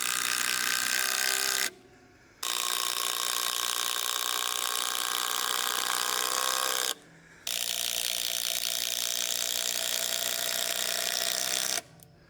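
Eight-inch structural screws are driven into wooden gate posts by a power driver, giving loud, close, continuous grinding runs broken by two brief pauses.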